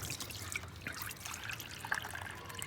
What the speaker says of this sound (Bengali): এখন কিন্তু আমার যে পানিটা বেরোচ্ছে কলের থেকে সেই পানিটা কিন্তু গরম